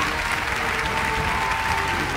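Audience applause at a Vietnamese musical stage performance, a steady dense wash of clapping from a crowd, fairly loud and continuous throughout with no voices on top.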